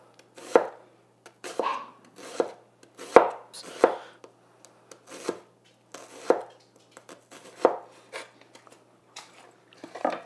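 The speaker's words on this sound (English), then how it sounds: "just take the onion and slice it across the top into whatever thickness you need" A kitchen knife slices through an onion across the top on a cutting board, giving about fifteen crisp, irregular cuts with short pauses between them. The cuts are close and clear, with no talking.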